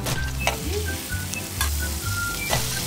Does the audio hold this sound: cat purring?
no